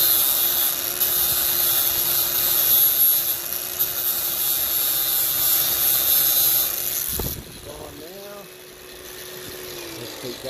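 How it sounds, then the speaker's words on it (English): A power tool fitted with a wire wheel and flapper disc grinds metal, a loud steady whirring drone that cuts out near the end as a voice speaks over it. "I'll get started with a wire wheel with a flapper disc"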